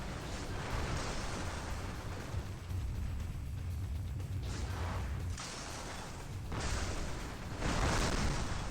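Heavy gunfire and blasts pound a player's mech in the MechAssault video game, a dense continuous barrage of booming impacts that swells and cuts out in bursts, loud and close with no talk over it.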